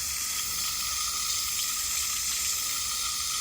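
Water from a hose runs steadily down a mini gutter on a gazebo, a constant bright splashing rush that stays even throughout with no voices.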